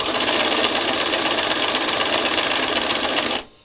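A sewing machine runs steadily as it stitches a second pass over fabric for a flower craft. The whir is fast and continuous at close range, and it stops abruptly near the end.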